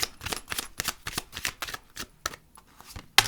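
Tarot cards shuffled close by for a reading, a quick series of crisp riffling and slapping bursts with brief pauses between them, ending in a sharp tap, with no voices.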